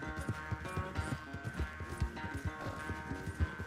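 A horse gallops in Red Dead Redemption 2, with a rapid, steady run of hoofbeats close by and a soft bed of game ambience behind it, and no one speaking.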